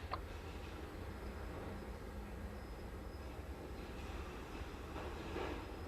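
A BNSF local freight train switching cars at a lumber mill on Stevens Pass, heard as a faint, distant rolling rumble with a thin wheel squeal drifting over it.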